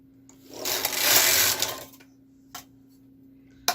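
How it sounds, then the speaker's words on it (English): Carriage of a KR 230 knitting machine swiped across the bed for circular knitting: one loud, smooth whirring pass of about a second and a half, followed by two short clicks, with a low steady hum underneath. "You need 2 swipes of the carriage for each row of circular knitting."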